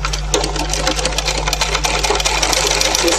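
Sewing machine running steadily as it stitches a fabric border strip onto a baby cap, a continuous close mechanical whir with faint rhythmic needle clatter and a low motor hum throughout.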